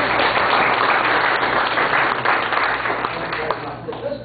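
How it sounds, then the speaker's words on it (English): Applause for a team at a county tourism council meeting, a loud, sustained crowd clapping that runs throughout with some voices mixed in. "Round of applause for the whole team."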